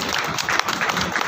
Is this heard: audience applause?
yes